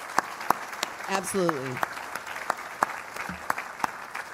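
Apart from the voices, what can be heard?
audience applause at arboretum gala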